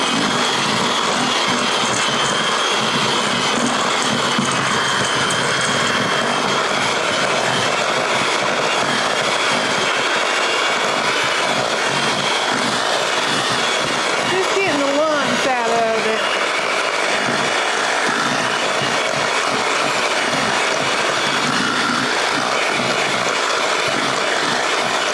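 An electric mixer beats honey, cinnamon and butter into a honey cinnamon butter for yeast dinner rolls, a steady broadband whir running continuously throughout.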